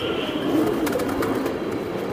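Doyer pigeons coo in a dense, loud murmur at a pigeon farm, with a few sharp clicks or taps partway through.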